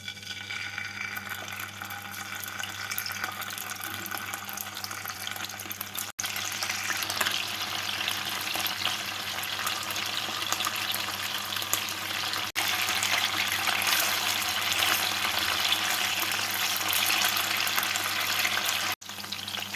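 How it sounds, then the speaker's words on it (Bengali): Marinated chicken pieces fry in a little hot white oil in a pan, a steady, close sizzle with a dense crackle that swells louder after a few seconds and carries on without a break, no voices over it. "ম্যারিনেট করা চিকেন পিসগুলোকে লাল করে ভেজে নিতে হবে"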